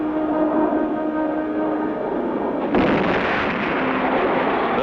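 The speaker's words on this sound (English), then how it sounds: "The second stage drops clear, and the third stage rockets light up" A cartoon rocket stage separates and the third-stage rockets ignite: a steady rumbling roar gives way to a sudden, brighter whooshing burst of rocket thrust that continues loudly to the end.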